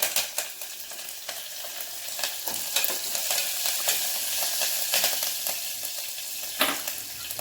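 Dry chilies, green chilies and curry leaves crackle and sizzle in hot oil for a tomato kichidi, a steady bright frying hiss with scattered pops and spatters throughout, close and without voices.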